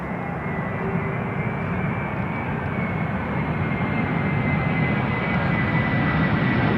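An airliner touches down on runway 18R at Amsterdam Schiphol, its steady engine roar filling the whole stretch evenly and loudly with no break or peak.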